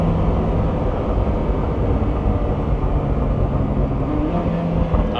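A Koenigsegg Jesko engine revs hard after a downshift to the lowest gear, a loud, steady, dense roar heard from inside the car with no voices.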